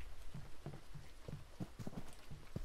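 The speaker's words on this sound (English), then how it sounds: "I heard the goat running through here." Goat hooves clattering in the horror game Devour: quick, irregular clip-clop footfalls on a hard floor, faint and somewhat distant under a steady background hiss, with no talk.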